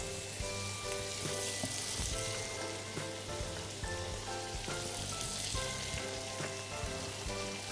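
Parsnips fry in a pan in a knob of butter, with sage nearby, for a Christmas dinner; a dense, steady sizzle with crackling pops continues throughout, close and without talk.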